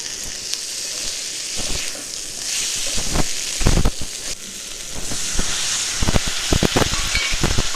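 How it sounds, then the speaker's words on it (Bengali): Spice masala with chopped tomato fries loudly in a pan for an egg curry: a close, steady hissing sizzle with bursts of scraping stirs and clattering utensil hits, growing busier toward the end. "ভালো করে মশলাটা ভেজে নেবো আর অল্প একটু জল দিয়ে দেবো মশলাটা যাতে না ধরে যায়"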